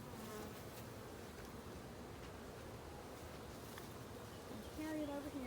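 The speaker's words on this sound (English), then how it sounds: "there's some bees in there. I can see them." Honey bees hum around an open hive during a spring honey harvest, a steady, dense, faint buzz with a slightly louder rise near the end.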